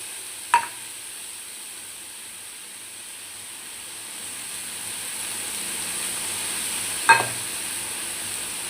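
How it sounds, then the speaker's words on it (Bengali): Spices for brown masala chola frying gently in a pan over a low gas flame: a soft, steady sizzle with two brief utensil taps, no voices. "গ্যাসের ফ্লেম কম করে এবার একটুখানি ভাজা ভাজা হবে মশলাগুলো।"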